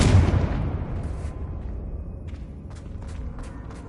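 A Confringo blasting spell explodes in Hogwarts Legacy, opening with a loud, broad boom that decays into a rumbling tail, followed by a few faint crackling bursts, with no voices.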